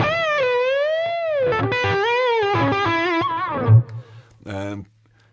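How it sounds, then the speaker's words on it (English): Electric guitar played through distortion and effects, with a long sustained note bending upward by a perfect fourth, sliding pitches and rich harmonics, loud and close, ending with a short separate picked phrase. "Or you could even go one further and bend up a whole perfect fourth."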